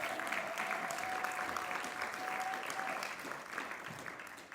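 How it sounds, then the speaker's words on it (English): Audience applause for Ann O'Connor at a live evening show, a dense, steady wash of clapping that holds throughout and eases slightly at the end. "She's here tonight, and she deserves your applause"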